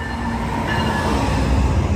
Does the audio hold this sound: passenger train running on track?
yes